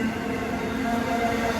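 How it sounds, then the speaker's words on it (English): A fast intermodal freight train led by a Norfolk Southern Dash 9 locomotive rolls by at Buford, Georgia, a loud steady rumble and wheel roar close by. "long train."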